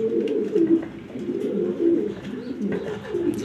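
A big female pigeon coos repeatedly in low, throaty rolls that come close together over several seconds, near and prominent, with faint rustling behind.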